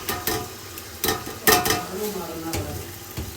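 Tomato, chili and ginger are stirred into frying vegetable pulao masala in a pan, a steady sizzle broken by repeated scraping strokes of a spoon, close and continuous.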